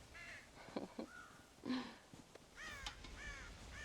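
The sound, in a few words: crows cawing in the video game Red Dead Redemption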